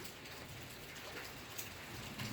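Steady rain falling, a soft continuous patter on surfaces heard from a distance, quiet and even throughout with no voices.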